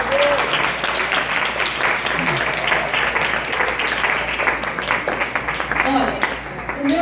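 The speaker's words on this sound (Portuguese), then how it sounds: "Aplaude Jesus aí, gente. Aplaude aí." A church congregation claps at a special Sunday school gathering, lively close applause with voices and cheering threaded through it, swelling again toward the end.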